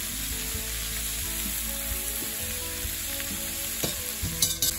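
Vegetables fry in butter in a skillet with a steady, close sizzle, and a few soft clinks and scrapes of stirring come near the end.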